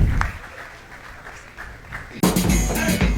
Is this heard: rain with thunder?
no